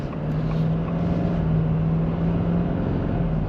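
A 2024 Ford F-250 King Ranch 4x4 diesel accelerates, heard as a steady low engine drone with a sustained hum and road and wind rumble inside the cab.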